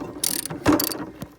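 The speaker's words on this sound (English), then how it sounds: "there's another 1/2-inch bolt that uses a 1/2-inch socket" Ratchet with a 1/2-inch socket turning a fuel tank bolt on a New Holland TC33 tractor, a few quick clicking pawl strokes close up and with no talk.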